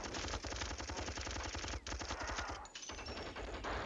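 Rapid automatic fire from the fusion pistol, called the fusion cannon, in the Marathon video game: a loud, dense stream of energy shots with a brief gap midway, then continuing steadily to the end.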